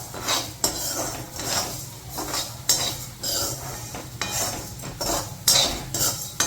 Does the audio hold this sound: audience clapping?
no